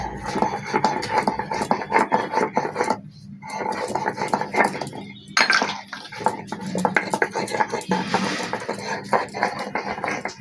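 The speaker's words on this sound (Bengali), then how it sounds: "তাহলে চলো এবার টমেটোটা কিছুটা বেটে নিই।" A tomato is hand-ground on a traditional Bengali grinding stone (sil) for an egg curry, giving a steady, rough scraping and knocking rhythm close up, with brief pauses and occasional faint talk.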